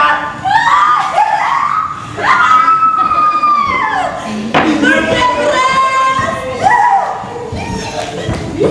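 Theatre actors in a rehearsal let out loud, drawn-out screams one after another, close and strained, with thumps and shouted voices mixed in.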